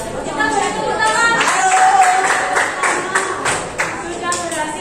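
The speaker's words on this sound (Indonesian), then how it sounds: "Kita beri tepuk tangan." Students in a classroom give a round of clapping after a group presentation, the claps moderately close and somewhat sparse, mixed with murmuring chatter from the class.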